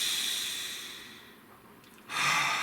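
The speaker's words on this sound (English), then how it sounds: "Nice deep breath." A single slow, deep breath in and out, a soft airy rush that fades into quiet before a fuller exhale at the end, close and alone with no talking.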